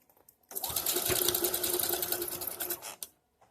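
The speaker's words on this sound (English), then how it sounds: "I'm pulling the elastic and securing it, and now I'm sewing it." A sewing machine stitches elastic onto homemade shorts, starting abruptly and running in one steady, fast, close burst of about two and a half seconds before stopping.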